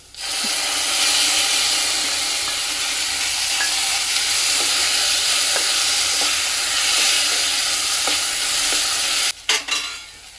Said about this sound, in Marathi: इथे कांदा भाजून झाला याच्यामध्ये आता टॉमॅटो ॲड करायचा आहे